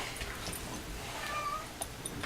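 A cat meows during a board game session at home, the calls faint and intermittent over steady room noise with no talking.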